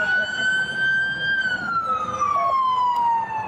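A police siren wails steadily and loudly, its tone sliding slowly downward over a low rumble of traffic, with no one speaking.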